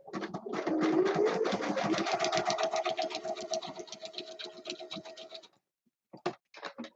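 Home sewing machine stitching scrappy fabric embellishments, a fast steady mechanical chatter of the needle running for several seconds, then stopping, followed by a few brief bursts of stitching.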